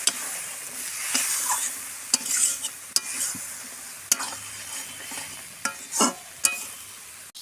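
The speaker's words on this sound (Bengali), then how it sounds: "এই মশলা ধোয়া জলটা আমি দিয়ে দেবো, দিয়ে আমি আবারও ভালো করে কষিয়ে দেবো।" Spice paste sizzles in a pan with spice-rinse water added while being stirred for jackfruit curry, steady frying hiss broken by repeated scraping strokes of a spoon against the pan, close and moderately loud.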